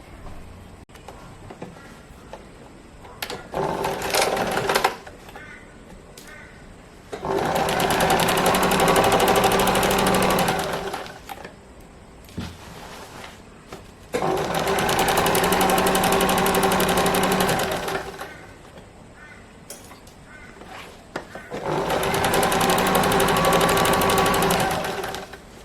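A sewing machine stitches a zero waste pleated skirt in three long, steady runs of whirring, each several seconds, separated by quiet pauses with small handling clicks.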